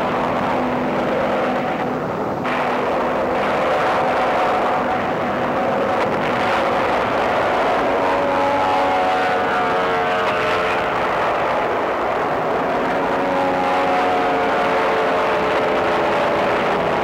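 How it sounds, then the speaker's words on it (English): Japanese land-based World War II fighter and bomber aircraft in an old war film over Leyte Gulf produce a loud, sustained engine drone with shifting rising and falling tones, layered with rumbling noise throughout. "Jap land-based fighters and bombers reinforced their sea strength."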